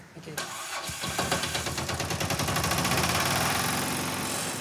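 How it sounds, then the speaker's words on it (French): A boat engine, in Trincomalee, Sri Lanka, cranks over and catches, then settles into a steady, loud chugging run with a regular rhythmic pulse. "Le moteur tourne"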